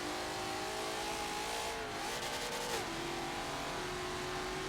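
Race car engine in the Forza Motorsport 7 racing game, a sustained droning engine note that dips and shifts pitch as the car eases through a corner, steady and even in level.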